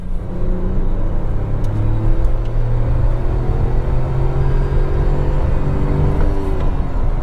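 A 2022 Tata Nexon XZ+ manual petrol engine drones and hums steadily while driving, with rising and falling engine tones over continuous road rumble, close inside the cabin with no talking.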